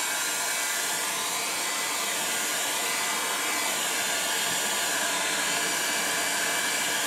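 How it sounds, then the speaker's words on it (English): A hair dryer on a low setting blows steadily with an even airy whoosh and high whine, constant and close with no talking. "Use a hairdryer is better."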